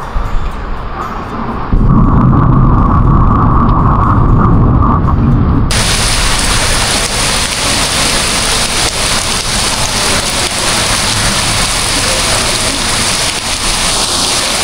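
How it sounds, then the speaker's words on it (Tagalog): Heavy rain heard from under a bridge pours in a loud, steady roar, rising abruptly after a brief quieter stretch and continuing densely with no talking. "Patilayan lang po muna natin itong ulan."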